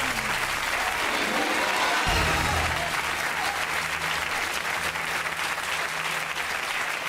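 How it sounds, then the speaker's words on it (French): TV talk show studio audience applauding as a guest is led off set, a loud, dense, sustained wash of clapping lasting several seconds, with a brief low murmur at the start. "Nous allons maintenant raccompagner sous les applaudissements Virginie"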